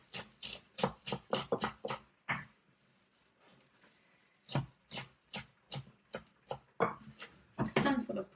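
A knife chops a handful of parsley on a board, with rapid, regular close cuts in two bursts separated by a short pause.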